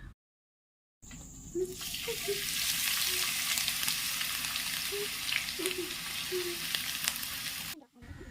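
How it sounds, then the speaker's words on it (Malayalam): Sliced onions frying in hot coconut oil in a kadai: a steady, moderately loud sizzle with faint stirring scrapes, beginning after a second of silence and cutting off near the end. "വെളിച്ചെണ്ണ ചൂടായ ശേഷം അതിലേക്ക് നമുക്ക് ഒരു മൂന്ന് സവാള ഒന്ന് ഫ്രൈ ചെയ്ത് മാറ്റിയെടുക്കണം"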